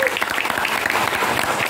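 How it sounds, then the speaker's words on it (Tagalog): An audience applauds two young reciters at a Grade 3 balagtasan at Bonifacio Integrated School: a short, brisk burst of crowd clapping, fairly loud, with a bit of voice mixed in. "Ang hiling ko'y salubungin ng palakpak ang dalawa."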